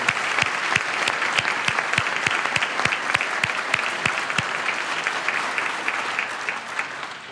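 Audience applause for Douglas County elected officials at a conference center grand opening, a dense steady wash of many hands clapping, fairly loud with a few sharper near claps standing out, tapering slightly at the end.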